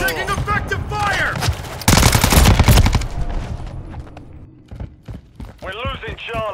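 Rapid bursts of automatic gunfire from a Call of Duty Modern Warfare 3 multiplayer match, loud volleys clustered in the middle with sharper shots around them, under radio-style voice callouts.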